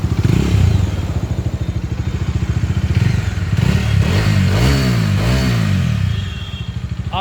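Bajaj Dominar 250 motorcycle idling and revving through its dual-barrel exhaust, a loud, close, steady throb that swells as the throttle is blipped and then settles back, with no talking over it.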